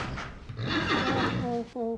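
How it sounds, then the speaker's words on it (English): A young horse whinnies loudly and close by in a short burst, its neigh rising and breaking into a shaky tail while a person talks over it. "this is a young horse, and horses can sometimes react erratically"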